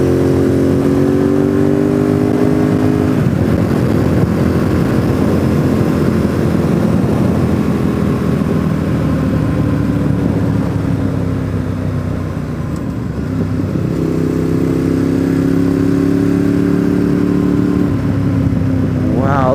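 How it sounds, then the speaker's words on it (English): Harley-Davidson motorcycles riding a road near Deals Gap, their steady loud engine drone with rising and falling pitch passing close by, while a voice talks over it. "Look at the Harleys."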